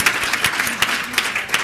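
An audience at an educator panel discussion claps in a brief, steady burst of applause, fairly loud and close, with no voices over it.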